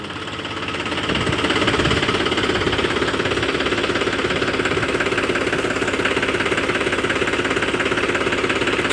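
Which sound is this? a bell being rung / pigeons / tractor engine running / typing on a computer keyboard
tractor engine running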